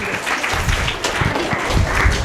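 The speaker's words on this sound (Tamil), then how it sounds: "அவருக்கு ஒரு கைத்தட்டல் கொடுங்க" A debate-show audience claps together in a dense, steady burst of applause, loud and close, lasting the whole stretch.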